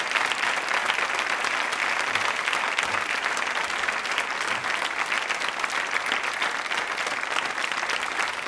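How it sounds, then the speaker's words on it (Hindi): A college audience at a quiz show on the film Mughal-e-Azam breaks into loud, sustained applause, dense and even from start to finish. "तालियां जोरों से बजाइए उन सभी लोगों के लिए जो जबरदस्त तरीके से इससे जुड़े रहे थे"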